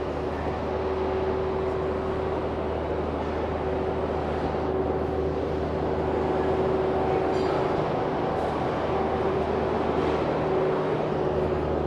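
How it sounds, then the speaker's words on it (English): A New York City subway 7 train rumbles loudly and continuously at Hudson Yards station, with a low steady drone and faint high squeals over the roar. "There we go, 7 train, Hudson Yards."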